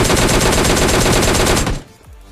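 Rapid automatic gunfire from PUBG Lite, a loud, dense burst of shots that runs for about a second and a half and then cuts off abruptly, leaving a short fading tail.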